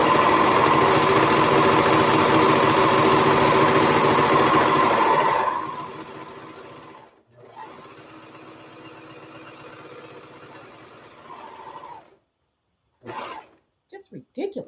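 A sewing machine runs loud and steady for about five seconds with a continuous mechanical whir, then stops, leaving quieter handling noises and brief bumps.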